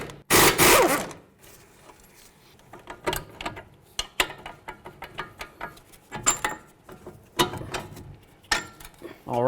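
Socket and wrench working loose the 24 mm nuts on a loaded shock assembly of a 2007–2014 Ford Edge: scattered close metallic clicks, ratcheting and clanks with a louder clatter at the start, no talking.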